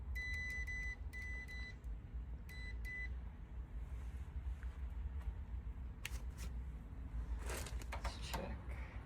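A multimeter set to continuity emits several short, clear electronic beeps in quick bursts while testing a compressor's windings during HVAC repair, with background noise and a later rustle.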